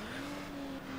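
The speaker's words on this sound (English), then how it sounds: "I love that the engine sounds different" Toyota Supra engine in Need for Speed Underground (2003), a steady sustained hum holding one even pitch for the whole second, close and loud, with no talking.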